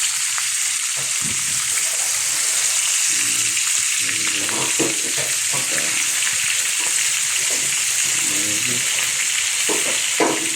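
Omani hilsa fish fries in hot oil with a loud, steady sizzle and crackle. Bursts of clattering stir through it, and faint voices murmur in the background.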